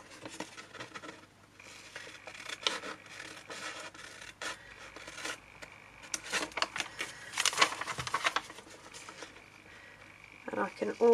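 Scissors snip and rustle through folded fabric while cutting away unneeded pattern pieces for a double pocket, a series of close, irregular crisp cuts and paper-like scratches that grow busier toward the end, with no talking.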